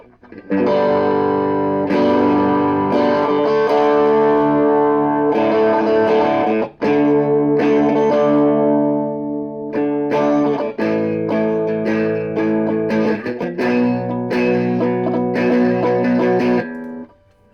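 Electric guitar through a Siren Pedals Juneau Bluesbreaker-style overdrive pedal, gain and presence at 3, playing loud, gritty sustained chords and riffs, with a brief break midway, no voices.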